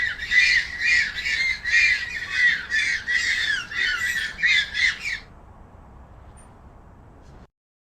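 Baby birds give a rapid run of loud, shrill squawking calls close by for about five seconds, then fall silent over a faint low background hum.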